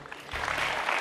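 Studio audience applause welcoming a guest on a Turkish entertainment show, a short dense burst of clapping that swells and stays steady, close and fairly loud.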